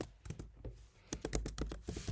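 Password being typed on a computer keyboard, with a quick run of crisp key clicks close by, an uneven burst that pauses briefly and then resumes more densely.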